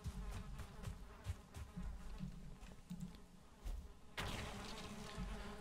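Bees hum around a beehive in the game Valheim, a soft steady buzzing drone with small scattered clicks, faint and continuous, no talk over it.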